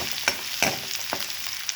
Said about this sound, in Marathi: ओली मिरची मिरची टाकून घेतलेली आहे तर तिलाही थोडी आपण असं परतून घेणार आहोत